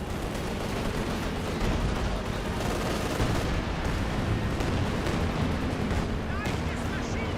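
An artillery barrage from a Panzer Warfare ability in Company of Heroes 2 rumbles as dense, continuous booming and crackling blasts, loud and unbroken from start to end, with faint voices and battle noise mixed in.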